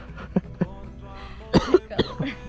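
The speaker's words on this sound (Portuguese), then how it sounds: "tô tossindo de sede" Several short, sharp coughs close by, spaced irregularly with brief pauses, followed by a couple of throat-clearing bursts.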